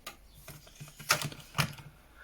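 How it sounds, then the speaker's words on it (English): Escape and F9 keys pressed on a computer keyboard connected to an HP Z440 workstation give a few sharp, close clicks, two of them louder, over a faint steady background hum. "Continue to smash escape and F9 and whatnot."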